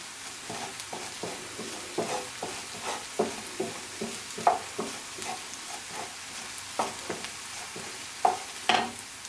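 Flour cooks in grapeseed oil in a pot for a vegan pot pie sauce, with a soft, steady sizzle. A spoon stirs it in repeated scraping strokes, each one a distinct knock against the pot.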